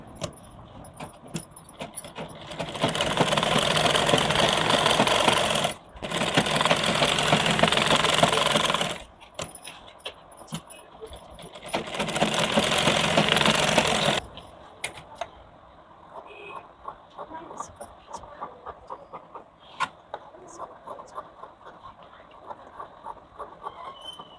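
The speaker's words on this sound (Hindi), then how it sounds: "ये अब हम इसके चारों तरफ से हम पहले सिलाई कर लेंगे" A domestic sewing machine stitches around the edge of a blouse collar to attach the lining, running in three loud sustained bursts of a few seconds each, separated by short pauses and quieter handling noise.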